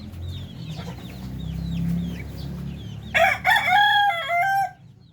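Chickens and month-old chicks in a pen, with soft peeping and clucking first, then a loud nearby rooster crowing in one long, wavering call that cuts off abruptly.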